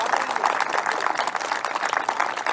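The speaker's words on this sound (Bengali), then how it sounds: "সব অতিথিদের জন্য জোরালো করতালির সঙ্গে স্বাগত জানাই" An audience claps steadily in applause welcoming guests at a modern farming gathering, a dense, even patter of many hands throughout.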